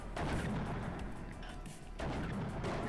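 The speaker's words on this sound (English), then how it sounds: "The mortars are off again." Mortar rounds in the real-time strategy game WARNO thud and rumble in a steady, low, muffled barrage, dull and distant-sounding throughout, with no speech over them.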